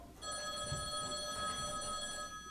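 An old telephone bell rings continuously and steadily indoors for a couple of seconds, a bright sustained ring at moderate level with no talk over it.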